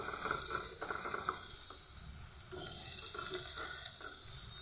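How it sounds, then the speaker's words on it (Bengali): Chopped onions frying in a pan, a continuous bright hiss of sizzling oil with faint stirring scrapes, close but fairly quiet, no talking. "পেঁয়াজকে আমি কুচিয়ে একদম সুন্দরভাবে ভেজে নেব"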